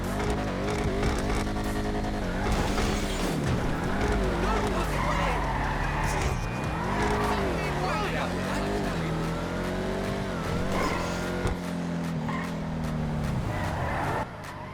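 A San Andreas Autos car in GTA 5 Online revs and accelerates, engine pitch rising and falling with tire squeal, loud and close, while someone talks over it.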